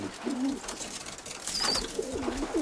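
A grey pigeon coos near its nest in a dovecote, with two soft, low, rolling coo phrases, one at the start and a longer one at the end, over faint background hiss and a brief high chirp.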